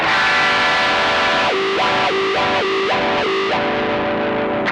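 Loud distorted electric guitar through a ZOOM G1 X FOUR multi-effects processor sustains while a wah pedal effect sweeps the tone repeatedly, producing rhythmic vowel-like rises and falls.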